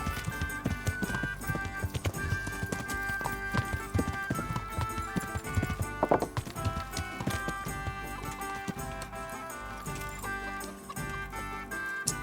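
Steady clip-clop of horse hooves in Kingdom Come: Deliverance under a busy layer of game music and effects, with a whinny and rustic animal sounds mixed in.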